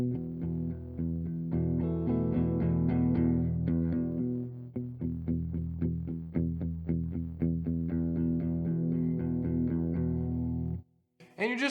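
Palm-muted electric guitar chugs through an effects chain with distortion and chorus, a loud run of tight, choppy muted strums and short picked notes, then a brief pause and a final ringing strum.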